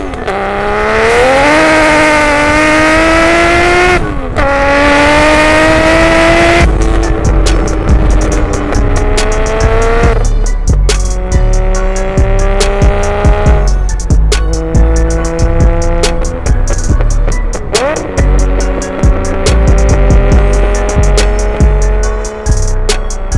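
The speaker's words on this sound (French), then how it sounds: "Ça sonne vraiment pas comme un BRZ." A 750 hp Subaru BRZ engine revs hard and loud up close, rising and falling through repeated pulls and gear changes, with rough mechanical roar and tire noise throughout.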